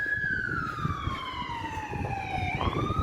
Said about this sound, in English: with an ambulance screaming by,